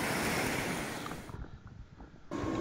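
A north-country trout creek flows briskly over waterfalls into deep pools, a full rushing wash of water that dips briefly before surging back.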